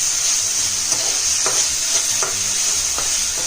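Ginger garlic paste frying in a pan for chicken donne biryani: a continuous loud sizzle with a few regular spoon scrapes as it is stirred.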